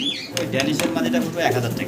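Female pigeons coo softly up close in a fancy pigeon market, with brief rustling or flapping mixed in. Someone seems to talk quietly underneath.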